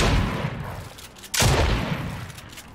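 A pump shotgun fires once in the Fortnite video game, a loud, sharp blast in the middle of ongoing game noise with a quick decay.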